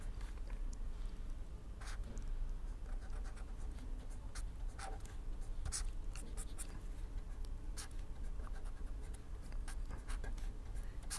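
Marker strokes drawing a machine diagram on a board, steady scratchy squeaks and taps repeating throughout over a low background hum, with no talk.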